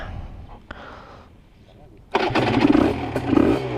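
An Aprilia RS 125 motorcycle sits quiet for a couple of seconds, then its engine fires up abruptly and revs loudly and raspily nearby, the pitch rising and falling as the throttle is blipped.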